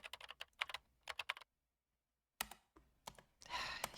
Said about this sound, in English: She's deliberately hitting the keys so hard to drown me out.